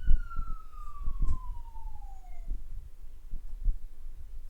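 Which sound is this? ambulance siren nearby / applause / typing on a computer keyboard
ambulance siren nearby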